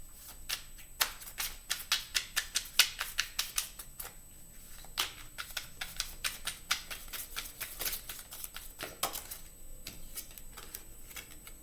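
Tarot cards are shuffled and pulled on a table, making a quick run of crisp flicks and soft slaps, close and fairly quiet, with a brief riffle near the end.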